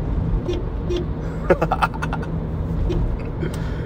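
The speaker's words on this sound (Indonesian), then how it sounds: "karena klaksonnya seperti ini" A 2022 Toyota Voxy sounds its horn in a short cluster of quick honks midway, standing out over a low, constant background hum.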